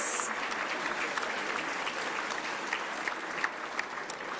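Applause for the hotel staff at a Sisters of St. Joseph anniversary dinner at the Seaport Hotel: a sizable banquet crowd claps steadily at moderate volume, with a few sharper individual claps standing out toward the end.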